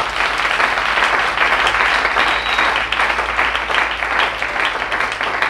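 Church congregation applauding in praise during a worship service, sustained dense clapping filling the room at steady loudness for the whole stretch, with no speech over it.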